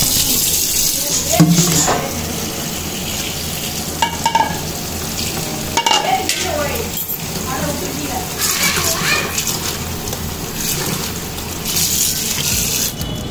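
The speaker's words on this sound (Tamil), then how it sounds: "ஒரு 2 தடவை அலசி நம்ம நல்லா தண்ணி இல்லாமல் அதை புழிஞ்சு எடுத்துக்கிறணும்" Water splashes and swishes as chopped banana flower is stirred and rinsed in a bowl, with a continuous watery hiss and occasional clinks.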